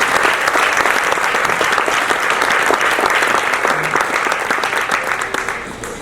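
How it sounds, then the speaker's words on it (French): A crowd in Québec applauds Docteur Parfait at a ceremony for the Femmes Noires Inspirantes international contest, with loud, dense, sustained clapping that fills the whole stretch and only begins to thin near the end. "Vous pouvez l'applaudir très fort"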